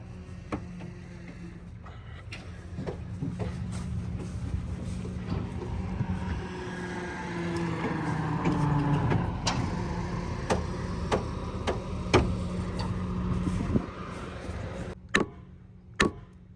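An Alvis Stalwart amphibious truck, abandoned for 15 years, runs with a steady low engine drone while being shifted between forward and reverse, with sharp clicks and clunks scattered over the hum.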